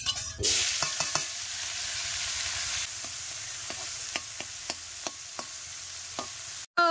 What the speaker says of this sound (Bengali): কড়াইতে তেল দিয়ে দেবো। কড়া কিন্তু খুব গরম হয়ে গেছে।